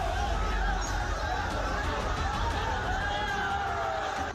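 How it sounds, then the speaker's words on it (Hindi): Dense crowd of thousands filling the streets in PoK, a continuous roar of chatter and shouting voices blending into an unbroken babble at moderate distance. "हजारों की संख्या में लोग सड़कों पर उतरे हैं।"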